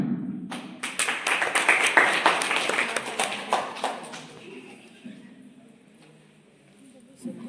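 A college Constitution Day audience claps for a few seconds, close and fairly loud, then the applause tapers off into quieter room sound as a voice speaks.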